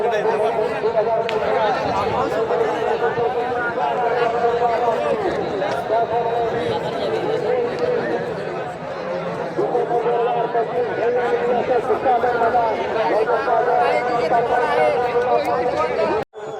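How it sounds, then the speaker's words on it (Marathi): A large crowd chatters continuously at a bullock cart race, a dense babble of many voices at a steady, loud level that cuts off abruptly at the end. "राव पाटीलचा खूप गर्दी आहे. खूप गर्दी आहे बघा."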